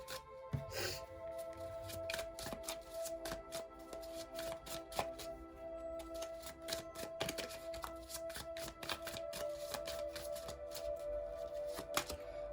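Tarot cards are shuffled and drawn in a run of soft, rapid riffling and tapping, close and fairly quiet, under a steady background hum.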